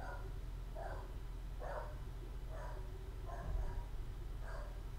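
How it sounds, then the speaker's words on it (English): A dog barks repeatedly at a steady, spaced rhythm, about six muffled barks in a row at moderate distance over a low background hum. "Stop barking!"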